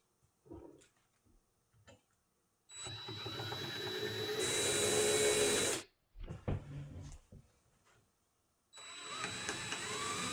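A drill works a screw out of the stock of a Winchester 44-40 rifle during restoration, running in a loud sustained whine for several seconds, then another burst after short gaps with small handling clicks.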